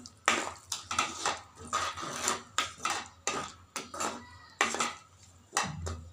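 A utensil scrapes and knocks against a pan as chili powder and turmeric are stirred into onions for rajma curry, making a series of distinct, close, rhythmic clinks and scrapes with short pauses between strokes.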